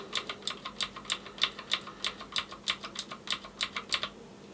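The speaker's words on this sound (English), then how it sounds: "When you're typing on the keyboard" Key presses on a Marvo Scorpion KG901 compact mechanical gaming keyboard with blue switches ring out as sharp, clicky taps at a steady typing rhythm, close and distinct with no talk.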